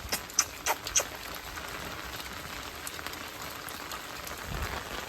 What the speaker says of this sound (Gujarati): જગ્યાએ અત્યારે ફૂલ વરસાદ ચાલુ થઈ ગયો છે